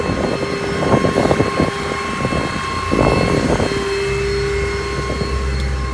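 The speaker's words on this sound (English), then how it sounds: "PTO is on right now, which is why the idle's up." A 2015 Ford F-550 crane truck with a V10 idles high with its PTO engaged, giving a steady mechanical hum with tonal whine and intermittent clattering, and no voices.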